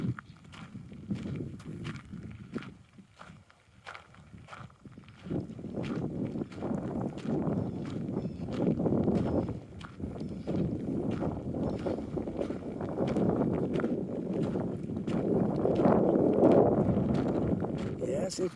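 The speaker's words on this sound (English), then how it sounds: "we're getting a little more breeze over here again" Breezy wind gusting across an open hilltop in Point Pleasant Park, a steady low rumble that swells louder toward the end, with footsteps and people talking underneath.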